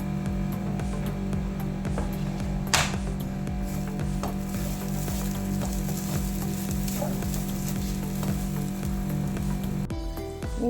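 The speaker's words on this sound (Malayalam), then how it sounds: "ഈ തേങ്ങയിലേക്ക് ഒരു 5-6 ചെറിയ ഉള്ളി, കുറച്ച് കറിവേപ്പിലയും കൂടെ ഇട്ടിട്ട് നമുക്ക് വറുത്തെടുക്കാം" Grated coconut sizzles and fries steadily in a pan, a constant crackling hiss at even loudness with a few light clinks of a spoon or pan, and a short change in texture near the end.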